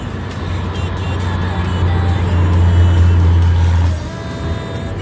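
Vehicle engine pulling up a mountain road in fifth gear, heard from inside as a loud, steady low drone that builds in strength and then drops away.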